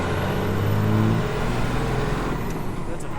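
A purple Dodge on a test drive after drive line work, its engine and road noise loud and steady throughout, with a rising, accelerating tone and no voices.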